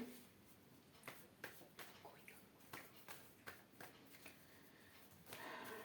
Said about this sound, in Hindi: Let's shuffle the cards.